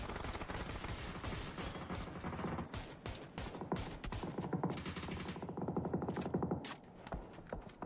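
Rapid automatic gunfire bursts and single shots from an esports video game match, dense and continuous with echoing game effects throughout, no speech.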